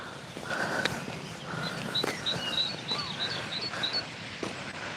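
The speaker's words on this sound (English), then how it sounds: "I can hear a bird." A bird calls at a campsite field in a series of short, high chirps and whistles, faint and somewhat distant, over rustling and breathy background noise.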